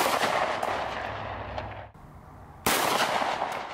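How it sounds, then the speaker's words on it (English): Two loud, close 9mm handgun shots at a target roughly 361 to 400 yards away near a pond, each a sharp crack followed by a rolling outdoor echo, spaced about two and a half seconds apart. "I'm gonna try to hit a target 400 yards away with my 9mm"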